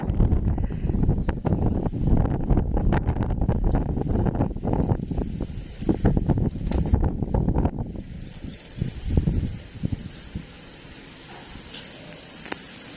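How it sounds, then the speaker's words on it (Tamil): Strong gusts of wind roar and buffet the microphone for several seconds, then ease off into a quieter, breezy rush. "இது மாதிரி காற்று சவுண்ட் உங்களுக்கு வருமானு"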